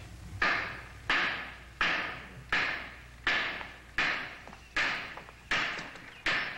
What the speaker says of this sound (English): Charlie, would you cut the hammering for a while?